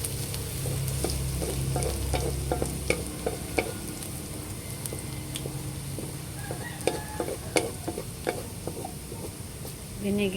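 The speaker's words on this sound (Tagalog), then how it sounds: "Binigisan na po ni RJ yung bawang." Garlic sautéed in a pan for Batangas lomi makes a loud, steady sizzle with scattered clicks and scrapes of a spatula, close up, and a faint voice in the background.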